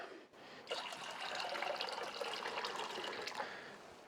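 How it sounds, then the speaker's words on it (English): Water pours steadily into a pot in a workshop, set up for testing a thermostat from a Suzuki Jimny cooling system, as a continuous splashing fill lasting several seconds without speech. "So I'm just going to put some water in a pot over here."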